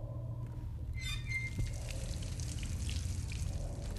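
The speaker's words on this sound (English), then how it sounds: "Is that a faucet?" Water dripping from a faucet in the stealth game Dishonored, with faint, irregular drips and splashes over a steady low ambient hum and scattered quiet game tones, no voices present.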